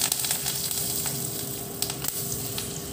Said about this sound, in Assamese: এনেধৰণে সৰিয়হখিনি ফুটাৰ পিছতে মই ইয়াত মই এই নৰসিংহ পাতকেইটা দি দিম।